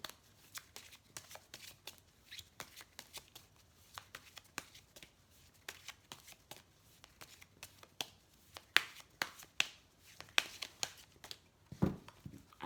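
Oracle cards shuffled by hand for a card reading, a steady run of soft riffling slaps and papery flicks, close and quiet, with no voice over it.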